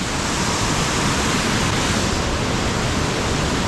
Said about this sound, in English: Nice waterfall.